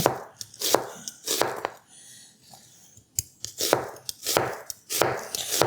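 A sharp knife slices an onion into half moons, producing quick crisp cuts in clusters that land on a cutting board up close, with a short pause partway through.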